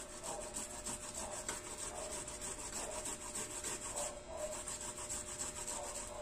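Onion being grated on a sharp stainless steel grater for onion juice, a steady close scraping and rubbing texture with rhythmic strokes running continuously, no talking.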